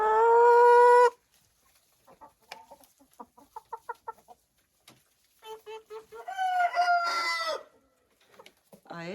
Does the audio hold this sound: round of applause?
no